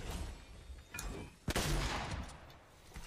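Gunfire in a video game firefight, a burst of sharp shots with one loud crack in the middle and scattered bangs around it, over a busy game background.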